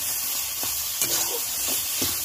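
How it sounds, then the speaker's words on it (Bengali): Taro leaves and a fish head are stirred in a cooking pan, giving a steady sizzling hiss with a few soft scraping knocks from the stirring. It is close and continuous, with no talking. "মিশিয়ে নিয়ে এবার ঢেকে দেওয়া হবে।"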